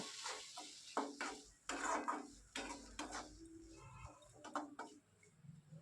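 French beans mixed in a pan for a bean bharta, with faint, intermittent scraping and clinking of a spoon against the pan in short bursts, quiet and close with no talk.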